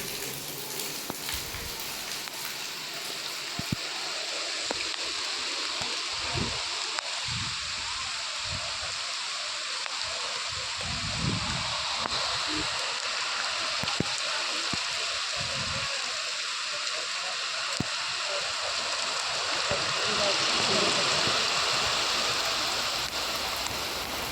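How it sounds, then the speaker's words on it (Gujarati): Heavy downpour with wind over Amrapur Gir in the Maliya Hatina area, a dense, steady rush of rain that stays loud and unbroken from start to finish, with no talking. "પવન સાથે ધોધમાર વરસાદ"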